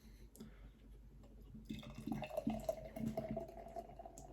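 Northern Monk Michelada craft beer, an amber red-ale-coloured brew, is poured into a glass, with a steady, moderately quiet gurgle and splash of liquid filling it.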